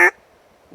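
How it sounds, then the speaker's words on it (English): A wooden duck call gives one short, loud quack-like blast at the start, followed by near silence. "that's when I tend to favor this duck call here."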